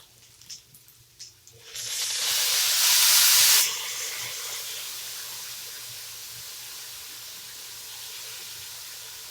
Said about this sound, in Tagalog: hayaan mo na isang kumulo ng kumulo para maluto yung toyo